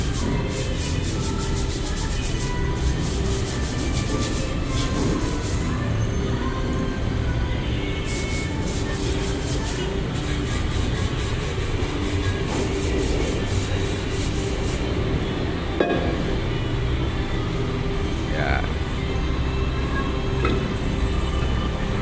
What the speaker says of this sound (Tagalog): Siyempre lihahin muna natin.